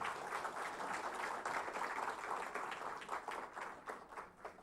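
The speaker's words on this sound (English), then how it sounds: "Can we make it louder with a huge round of applause coming from everyone" A large audience applauds at the inaugural ceremony of the 36th International Geological Congress, a faint, steady roar of many hands clapping heard from a distance, holding evenly throughout before easing slightly at the end.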